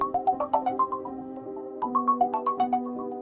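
A mobile phone rings with a repeating bright, chiming melody in short pulsing bursts, close and clear, with no other sounds.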